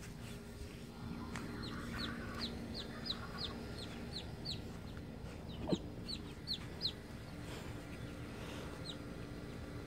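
Chickens and chicks clucking and peeping on a farm, with repeated high chick cheeps in quick bursts above a low continuous background hum, faint and somewhat distant.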